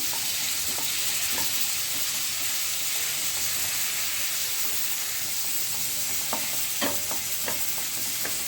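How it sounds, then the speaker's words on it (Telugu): Ginger garlic paste frying in ghee and oil for mutton fry gives a steady, close sizzle throughout, with occasional scraping stirs of a spoon against the pan toward the end. "ఇప్పుడు దానికి తగ్గట్టు అల్లం వెల్లుల్లి పేస్ట్ వేసుకొని పచ్చివాసన పోయేంత వరకు వేయించుకుంటాను"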